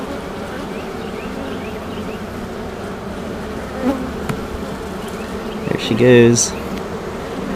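Honeybees at a beekeeping hive buzz in a steady, close drone while an overwintered queen is released. A short spoken remark and a few handling noises come near the end.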